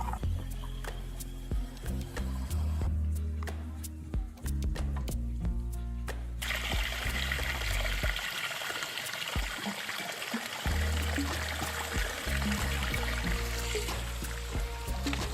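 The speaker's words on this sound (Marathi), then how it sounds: "खूपच थंड आणि स्वच्छ पाणी" Cold, clear water trickling and splashing steadily along a rocky hill fort path at Visapur, a continuous close babbling flow with the sound shifting and brightening partway through.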